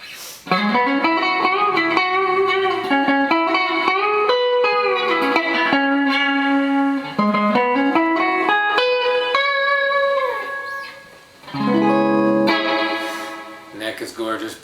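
A warm electric guitar lead on the neck gold foil pickup, played with light overdrive, close and steady, singing sustained notes and slides, pausing briefly before a final chord flourish.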